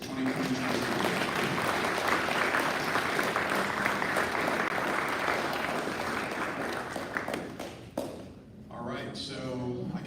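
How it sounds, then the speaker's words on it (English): Sustained applause from a Rotary club gathering honoring its outgoing board, dense and steady for about eight seconds before thinning out as a few voices and movement take over near the end. "please give a great big round of applause for the outgoing board"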